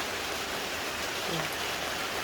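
Light drizzle falls steadily behind a house near a cattle pen, a constant, even hiss of rain with no talking.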